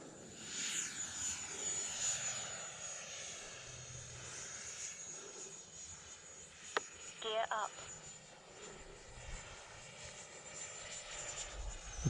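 An E-flite F-16 Thunderbird RC jet flies over a freshly mowed grass field, its thin, steady whine faint and distant against outdoor background noise, with a couple of brief clicks midway.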